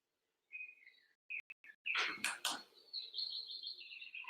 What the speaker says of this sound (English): Our little bird chirping.